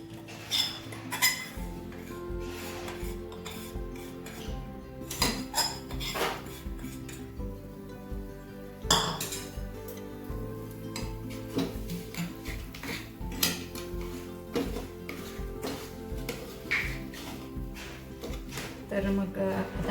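Mango barfi mixture is stirred with milk powder in a pan, with a spoon clinking and scraping against the metal in an irregular, fairly close rhythm throughout.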